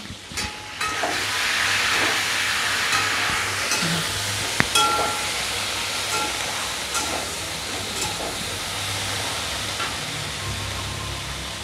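Okra frying in an uncovered pan, turmeric added, giving a steady broadband hiss and sizzle throughout, with a few faint clinks.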